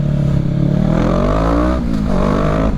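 A Kawasaki ER6N motorcycle with an Akrapovic aftermarket exhaust revs hard and close, its engine note climbing, dipping briefly, then rising again in a continuous loud roar with no talking.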